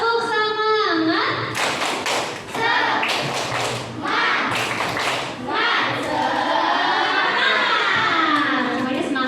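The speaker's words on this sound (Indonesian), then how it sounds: "Oke, tepuk semangat." An Indonesian primary class performs a rhythmic spirit clap led by the teacher: bursts of patterned group clapping mixed with children chanting and a voice, loud and close in a classroom.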